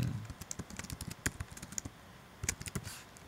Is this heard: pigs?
no